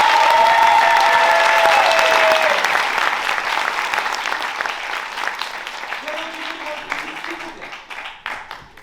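An audience applauds an improv team called Les Improbables at a drama school's second-year improvisation show, loud dense clapping that gradually thins and fades, with a few voices murmuring under it toward the end.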